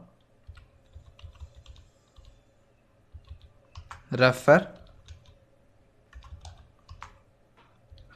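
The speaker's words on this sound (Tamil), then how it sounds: "இப்போ டைப் பண்ணுங்கள்" Typing on a computer keyboard during a Microsoft Word lesson: scattered soft key clicks in short bursts, close by, with a brief stretch of speech in the middle.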